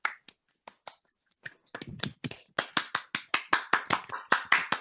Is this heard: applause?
yes